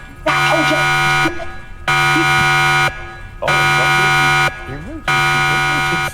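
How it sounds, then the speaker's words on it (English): An alarm siren effect plays during a Cyberpunk RED tabletop game, giving four long, loud, blaring buzzer-like blasts separated by short gaps, with a voice talking over the later blasts. "there's an alarm and Sirenscape going off really loud"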